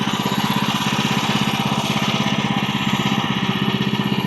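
A small engine on a log yard implement running with the choke partly on, a steady close putter with a rapid, even firing pulse and no talk.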